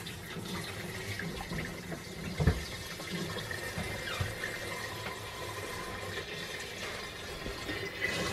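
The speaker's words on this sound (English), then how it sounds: "if you want to start pouring water into there" Water pours steadily into a Thetford C250 cassette toilet with a quiet, continuous trickling splash, fairly faint, and one brief knock partway through.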